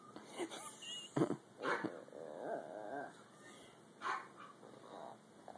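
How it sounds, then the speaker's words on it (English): A dog growls and whines in low, uneven bursts spread over several seconds, with a few sharper yelps, fairly close and alone. "I would growl too, Coda."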